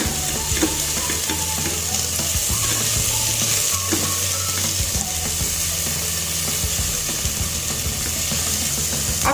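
Small sliced onion sautéing in a pan for broccoli-almond soup, a loud continuous sizzle with stirring scrapes and knocks throughout, steady and close, no voices.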